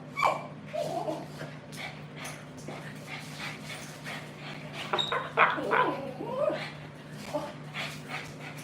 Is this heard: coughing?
no